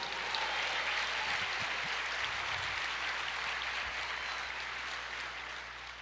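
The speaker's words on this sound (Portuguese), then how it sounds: "aplauda o Senhor" A church congregation claps together in a steady, dense wash of applause that fades slightly toward the end, fairly soft and distant.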